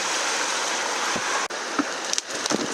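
A river rushing steadily nearby, a continuous broadband wash of flowing water with a few brief knocks and splashes toward the end.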